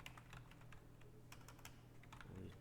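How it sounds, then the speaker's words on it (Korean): Someone types on a computer keyboard, giving a quick, uneven run of soft clicking keystrokes close by against a low steady hum, with no voices. "타자가 안 쳐지네"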